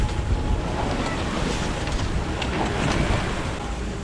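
Strong wind and rough, choppy water around a sailboat beating close-hauled on Chesapeake Bay, a dense, loud, continuous rush of wind noise and waves with no talking.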